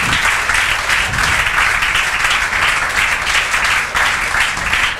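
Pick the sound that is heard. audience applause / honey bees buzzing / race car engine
audience applause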